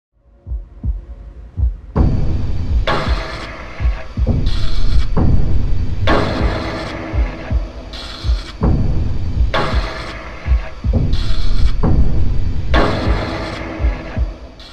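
Tense, anxiety-inducing Silent Hill game music, built from harsh, throbbing sounds in repeating heavy pulses that swell and drop back in a steady loud cycle, with no voices.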